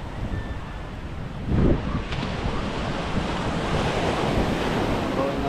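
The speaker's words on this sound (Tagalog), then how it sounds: "Tapos simoy ng hangin." Sea breeze rushes against the microphone over a steady wash of ocean waves on the coast, with a brief louder gust partway through; no talking.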